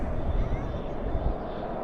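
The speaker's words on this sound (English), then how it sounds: "Spoilers up, reversers out for that 777." A Korean Air Boeing 777-200 landing at night at Dallas/Fort Worth International Airport with spoilers up and thrust reversers deployed, heard as a steady, distant broadband roar that holds throughout.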